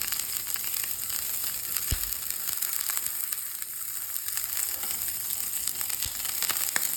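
A quesadilla tortilla sizzles in butter on a hot pan, a steady close frying hiss running throughout with faint crackles and no talking.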